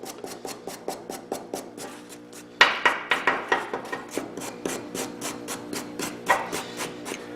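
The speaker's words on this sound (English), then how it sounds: "I will have to clean that off with a wire brush" Wire brush scrubbing fiberglass off a cast iron weld made with 7018 stick rod, a steady train of short rasping strokes, close and fairly loud, with no talk.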